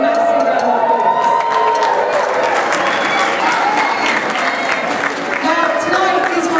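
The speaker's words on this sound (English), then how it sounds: "so give them a massive round of applause." A large crowd of children and adults at a schools showcase in a football stadium applauds and cheers loudly, a dense continuous roar of clapping with shouts mixed in, and a voice briefly over it.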